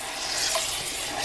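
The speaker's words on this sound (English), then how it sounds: "hear that sizzle just from the liquid that's on my" Liquid dripping off a spatula sizzles in a hot pot while a big batch of gumbo cooks with garlic, a brief steady crackling hiss, close and fairly loud, with no voices.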